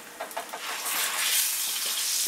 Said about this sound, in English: You're going to sizzle them up, let them sizzle, they bubble up